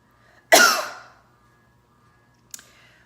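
One sharp, loud cough fading over half a second, then quiet, followed by a much softer short throat sound near the end.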